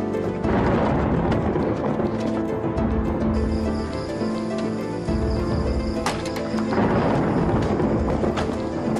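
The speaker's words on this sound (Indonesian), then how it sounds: "di luar petirnya besar banget" Thunder rumbles loud and unbroken through a storm, a dense, steady roar that fills the whole stretch, with tonal layers running beneath it.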